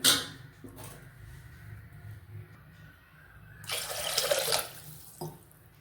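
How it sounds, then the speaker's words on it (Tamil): Water runs from a tap into a pot for ghee rice, a steady splashing stream that swells louder near the end before stopping. "தண்ணி ஒரு ஒன்றரை கப்பு ஊற்றிக்கிறேன்"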